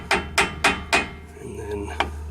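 Four quick, sharp hammer taps on the front brake caliper of a 1996 Jeep ZJ, evenly spaced and close, followed by a pause and one final lighter tap.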